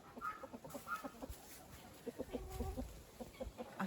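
Hens cluck softly in a farmyard flock alongside a rooster bought online, with scattered short calls and low murmurs close by and no talking.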